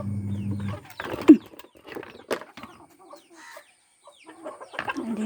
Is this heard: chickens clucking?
yes